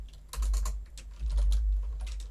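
Computer keyboard typing comes in two quick bursts of clicky keystrokes, close and fairly clear, with no voices.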